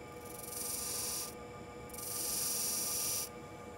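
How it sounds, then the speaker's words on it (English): A skew chisel cuts shallow V grooves into spinning wood on a lathe in two hissing, scraping strokes, each about a second long, separated by a short pause, close and fairly quiet. "Then I'll use the skew to create a small V, only about 1/32 of an inch deep here on each line"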